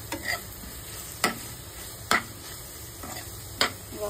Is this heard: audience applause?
no